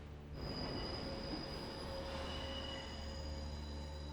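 Train wheels squeal steadily and loudly in a Death Note anime scene, a sustained high metallic whine riding over a continuous low rumble of the moving train, with no voices.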